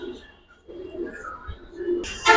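Giribaz silver pigeons coo softly in low, repeated calls, and a brief sharper sound rises near the end.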